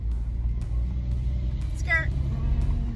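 Car interior during a pandemic grocery run, a steady low engine and road rumble from inside the moving vehicle, constant and close, with a brief high squeak partway through and no talk.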